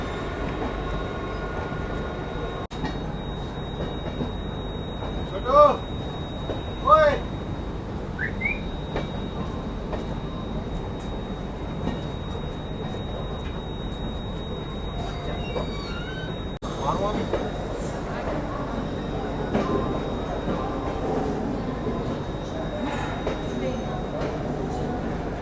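Banaras Ranchi Express running past at a busy Indian Railways station, a steady rolling rumble of the train continuing throughout, with a few brief squeals and clanks breaking through near the middle.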